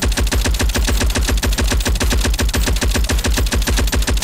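Rapid automatic gunfire in the video game Unturned, loud, close and unbroken, with shots packed in a fast, even rhythm for the whole stretch.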